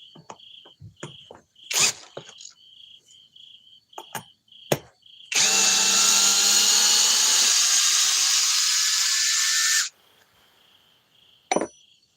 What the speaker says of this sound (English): We'll do a little bit of drilling, then we'll call it a night.